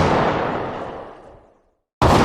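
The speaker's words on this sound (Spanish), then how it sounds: "Fue entonces que otra oleada de disparos, cada vez más cercanos, comenzaron a oírse." A loud burst of gunfire crashes out and rings off over about a second and a half, then after a brief silence another loud blast cuts in abruptly, suggesting a wave of shots drawing closer.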